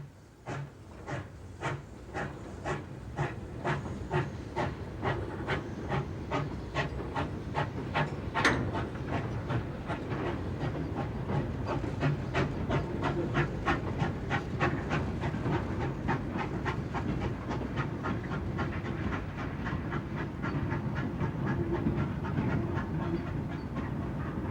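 A GWR 0-6-0 pannier tank steam locomotive hauls a freight train on the Dart Valley Railway, its loud, close exhaust beats chuffing in a steady, rapid rhythm over a continuous hiss of steam, building slightly and sustained throughout with no voices.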